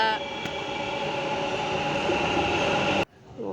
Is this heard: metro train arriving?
yes